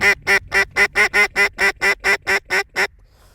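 Ducks on a morning duck shoot give about a dozen loud, evenly spaced quacks in a steady rhythm close by, then the calls stop and a faint quiet remains.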